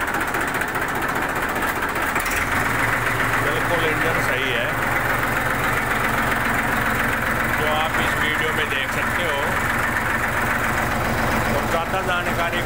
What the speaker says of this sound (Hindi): अब ये किसान भाई इसको ट्रैक्टर को स्टार्ट कर रहे हैं जिसकी आवाज़ आप दे सुन सकते हो